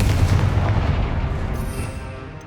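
Confringo spell blast in Hogwarts Legacy: a loud, booming explosion with a heavy low rumble that hits at once and slowly decays over about two seconds, with no voices.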